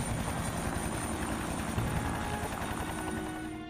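A rescue helicopter hovers during flood relief operations in Pakistan, its steady rotor thump and engine drone continuous and fairly distant, fading slightly at the end with no voices.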